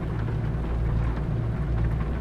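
Steady rain in the American Truck Simulator game, a dense continuous patter heard from inside a truck cab over a low rumbling drone.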